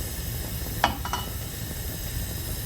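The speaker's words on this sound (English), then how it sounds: "Now we're going to add more oil to fry the vegetable" Vegetables fry in oil for a Chinese won ton and yuk sung filling, producing a steady broad sizzling hiss throughout, with a couple of brief utensil clicks near the start and no one talking.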